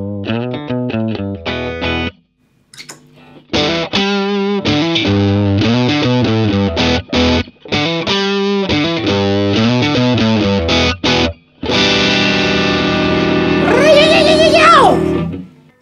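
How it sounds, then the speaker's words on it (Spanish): A Fender Telecaster plays loud, close chord and riff phrases, first clean and then through an EarthQuaker Westwood overdrive pedal, turning gritty and sustained, with a few brief pauses between phrases. "Escuchamos el sonido limpio de la guitarra y después activamos el Westwood."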